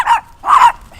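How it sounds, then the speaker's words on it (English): Several small dogs bark loudly at close range, with two sharp, yappy barks and the start of a third in quick succession. "They're barking their heads off."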